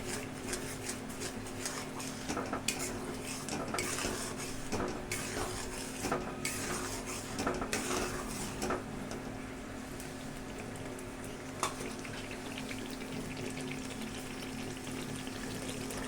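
Cashew and melon seed paste sautéing in oily masala after the oil separates, a steady close sizzle and bubbling hiss with faint scraping of a pan throughout.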